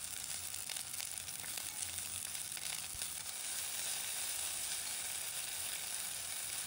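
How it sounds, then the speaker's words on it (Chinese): Scallion, garlic and green and red chili stir-fried in sesame oil in a hot clay pot hiss with a steady, close sizzle, with occasional light scrapes and no talking. "把它爆炒香。"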